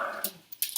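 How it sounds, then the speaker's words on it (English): Dogs scuffling and growling close by, with a low sustained snarl followed by a few sharp yips and snaps in brief bursts, no talking. "my dogs are fighting at my feet"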